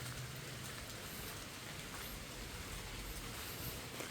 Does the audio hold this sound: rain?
yes